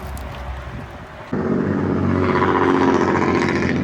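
A 2024 Honda CBR600RR motorcycle engine idles with a light clatter, then jumps louder and steadier as the ride begins, humming close by with no voices.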